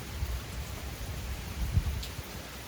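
Rain falls in the Carolinas, a soft steady patter with low rumbling texture throughout and no one speaking.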